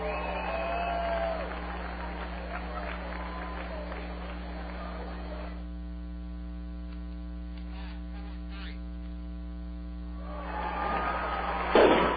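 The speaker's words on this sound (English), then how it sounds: "The round of applause you just heard was for the ceremonial first pitch thrown out tonight by Comcast's David Whitford" Crowd applause at a minor league baseball game between the Springfield Cardinals and Arkansas Travelers, greeting the ceremonial first pitch; a dense wash of clapping fills the first half, then fades under a strong steady electrical hum on a thin, band-limited broadcast.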